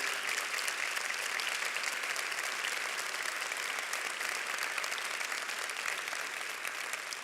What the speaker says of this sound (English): will you please stand so we can give you a big round of applause